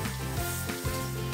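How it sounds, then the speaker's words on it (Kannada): Finely ground green chili fries with chicken for a pepper chicken fry, a dense, close sizzle broken by brief stirring pulses, short and without voices. "ಹಸಿಮೆಣಸಿಕಾಯಿನ ನೈಸಾಗಿ ರುಬ್ಕೊಂಡು ಹಾಕಿ ಚೆನ್ನಾಗಿ ಫ್ರೈ ಮಾಡ್ಕೊಳ್ಳಿ"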